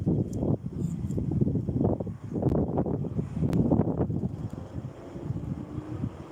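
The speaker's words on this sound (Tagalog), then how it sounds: "Mahangin pati. Mahangin." Steady, rumbling night wind buffeting the microphone outdoors, a continuous low roar with gusty swells and no speech.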